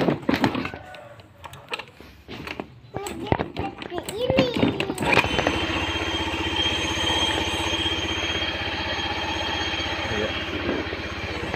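A Honda Beat FI motorcycle engine catches after a kick-start and settles into a steady, continuous idle hum close by, following a stretch of voices and mechanical clatter.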